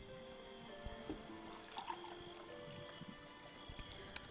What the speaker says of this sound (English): Full water jug. Give it to the plant.